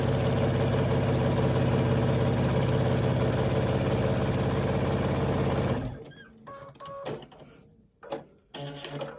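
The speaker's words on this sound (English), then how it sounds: "we're just going to sew" Sewing machine stitching a quilt panel, a loud continuous mechanical whirring run close by that stops abruptly after about six seconds, followed by a few scattered handling clicks and rustles.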